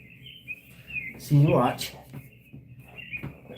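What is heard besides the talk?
bird chirping sound effect on a livestream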